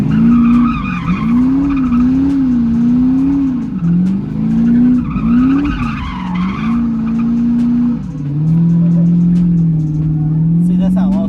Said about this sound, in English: This was my first controlled big drifting donut